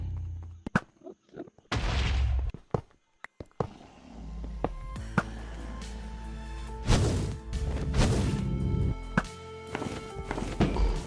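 End crystals blowing up in Minecraft during a hardcore ender dragon fight: a run of sharp, booming blasts spaced across several seconds, each with a heavy low thump and rumbling tail, mixed with footstep-like clicks and game noise.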